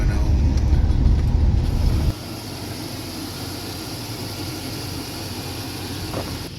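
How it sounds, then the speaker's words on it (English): A truck engine cranks loudly and catches, then settles into a steady, lower idle rumble that runs on continuously with no voices. "Okay, we got this truck started."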